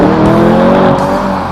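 A 550-horsepower Porsche Panamera Turbo Sport Turismo V8 estate launches hard under launch control, its engine roaring loud and close with a rising tone while the tyres squeal briefly, heard alone without speech.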